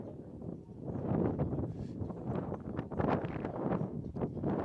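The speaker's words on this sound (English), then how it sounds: "Windy day out here." Wind gusts across an open golf course, a low, uneven rumbling buffet against the microphone that swells and fades in bursts, fairly quiet overall with no clear voices.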